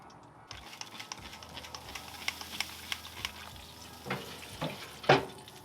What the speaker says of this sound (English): So we'll get this last spritz done